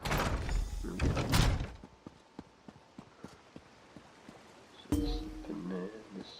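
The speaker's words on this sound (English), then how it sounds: "Must be one big door." A big door opens in the video game Elder Scrolls Online: Summerset. It starts with loud clattering mechanical noise, then a steady series of soft rhythmic clicks, and ends with a heavy thud and a fading rumble.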